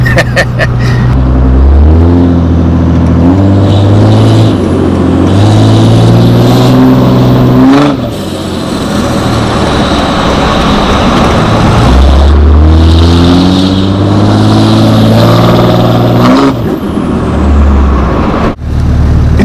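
Heavy diesel pickup truck with a 760 hp Cummins engine, heard from inside with a window down as it accelerates hard through repeated rising gear pulls, loud and close, with turbo whine layered over the engine; a voice speaks briefly.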